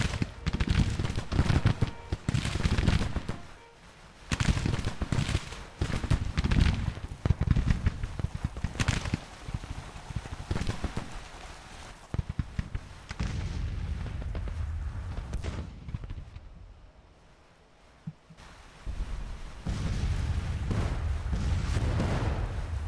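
Troops in the Grand Tactician Civil War game fire their guns in ragged volleys of booming, crackling musketry and distant artillery that keep overlapping, with a short quieter lull before the firing resumes.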